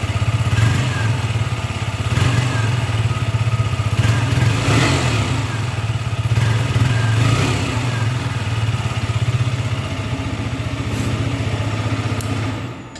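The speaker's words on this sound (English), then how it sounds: "Now let me show you the exhaust note. So you get an underbelly exhaust on this bike" A 2022 KTM RC 125 BS6 motorcycle's underbelly exhaust runs close and loud, a steady buzzy engine note with slight throttle swells for about twelve seconds before it cuts off.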